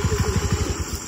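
A Honda Activa scooter engine runs in a field with a close, rapid, low putter of regular pulses, lasting just over a second with no voices.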